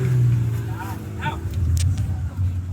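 A motorized tricycle rumbles past nearby on a street, its low engine drone swelling and holding loud, with people chatting over it.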